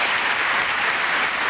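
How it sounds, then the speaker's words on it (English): Television studio audience applauding on a comedy show, a brief burst of steady, dense clapping at full volume with no speech over it. "So big round of applause now for Mr."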